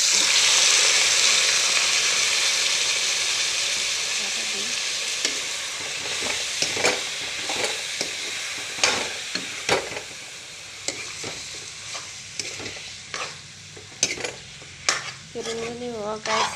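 Chicken with garlic and spices frying in hot oil in a pan, starting as a loud, steady sizzle that eases off, then broken by a series of sharp metal stirring scrapes and clinks, with no voices.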